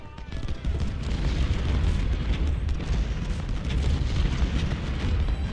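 Civil War cannon artillery at Malvern Hill in Ultimate General: Civil War rumbles in heavy, booming volleys, loud and sustained, overlapping into a continuous roar with voices faintly mixed in.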